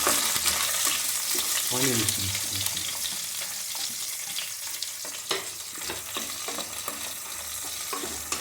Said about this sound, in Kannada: ಮೊದಲಿಗೆ ಮಸಾಲೆ ಪದಾರ್ಥಗಳನ್ನು ಹಾಕಿ ಫ್ರೈ ಮಾಡ್ಕೊಳ್ಬೇಕು. ಈಗ ಆನಿಯನ್ ಅನ್ನು ಹಾಕೊಳ್ತಾ ಇದ್ದೇನೆ.